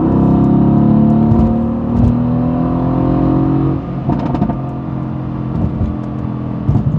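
Car engine revving and accelerating in the fast lane to pass a slow bus, a steady loud drone with rising harmonics, then a shift in pitch midway and a few faint bumps.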